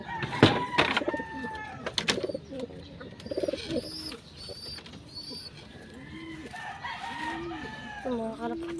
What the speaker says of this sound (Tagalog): Ito mga kalapatids.